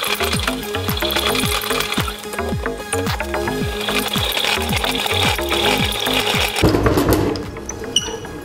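A hand-cranked honey extractor spins honey frames with a steady rhythmic mechanical clatter and ratcheting, repeating about twice a second, close and loud, before a brief shift in tone near the end.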